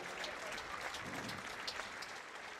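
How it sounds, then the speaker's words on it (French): Faint, distant applause from an audience greeting a ten-member sailing team at the christening of Groupama Team France's AC test boat, a continuous even patter of many hands throughout. "vous pouvez les applaudir."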